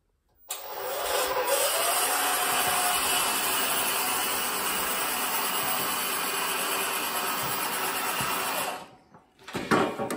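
DIY electric wheelbarrow motor run by a remote throttle in a garage, starting abruptly into a steady loud whirring drone that holds for about eight seconds, then drops away before a brief louder surge.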